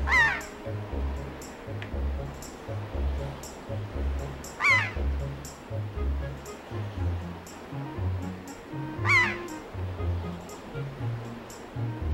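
A seagull controlled by the player in The Legend of Zelda: The Wind Waker gives three harsh calls spaced apart over a rhythmic game soundtrack with ocean ambience.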